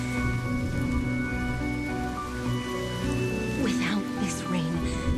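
Rain falls steadily in a video game scene, a constant patter and hiss with faint distant thunder, under tonal game music and occasional voice-like sounds.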